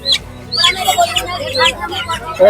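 Native chickens cluck and squawk in short, loud bursts at a crowded bird market in Tongi, close up, with brief voices of people mixed in.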